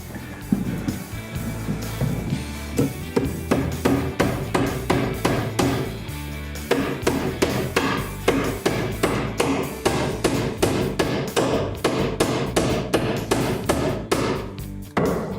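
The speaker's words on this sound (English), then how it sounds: "Might have should have got the heavier hammer." A light hammer repeatedly strikes nails driven at an angle into a wooden jack stud, a long series of sharp, close, rhythmic blows with brief pauses between bursts.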